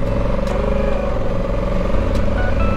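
Steady low engine drone of a Honda Africa Twin motorcycle being ridden, continuous and fairly loud with a constant road rumble, no speech.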